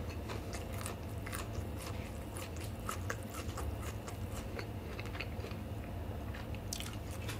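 Close, steady biting and chewing of a slightly cooled, firmed-up cheese stick from a tteokbokki takeout meal, with soft crunchy, squishy mouth sounds continuing throughout and no talking.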